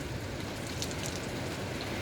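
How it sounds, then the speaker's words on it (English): Heavy rain falling at night in Mumbai during a thunderstorm, a steady dense hiss of downpour continuing evenly throughout with no distinct thunderclap or voices. "It's raining heavily outside with lights and thunder and noise."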